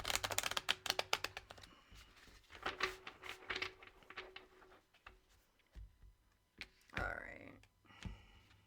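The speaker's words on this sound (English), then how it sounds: "One last shuffle." Tarot cards are shuffled up close in a quiet room, with rapid fluttering riffles of card edges followed by scattered taps and soft slides, faint and alone.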